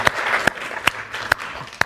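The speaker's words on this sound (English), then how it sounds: "It's a perfect way to get applause." Audience applause at a talk on celebrating abundance, a steady wash of clapping from a seated crowd with a few sharper close claps standing out, moderately loud throughout.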